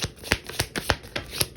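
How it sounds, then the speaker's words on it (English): A deck of tarot cards is shuffled by hand, making a series of quick, crisp riffling bursts in an even rhythm at close range. "Let's shuffle and get some more cards."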